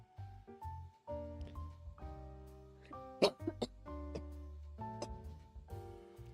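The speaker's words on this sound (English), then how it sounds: "I have the coughs. The coughs are strong tonight" A single sharp cough bursts out near the middle, close and loud over soft background music with sustained tones.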